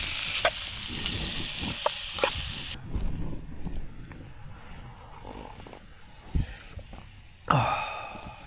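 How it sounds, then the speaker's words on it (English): Beef browning in a pot on a Trangia camping stove at a windy wild camp in Coledale: loud steady sizzling and stirring that drops away partway, then scattered knocks and scrapes, and a sharp renewed sizzle burst near the end. "I'm gonna brown the beef off, stick it in a pot"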